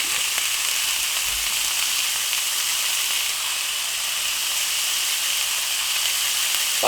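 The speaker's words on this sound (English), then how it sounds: "we're gonna get this meat browned up" Meat with fennel seed browning in a Lodge cast iron skillet for biscuits and gravy, a steady, even sizzle and hiss of frying that holds without a break throughout.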